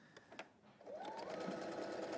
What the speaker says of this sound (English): I'm going to take this straight to my sewing machine.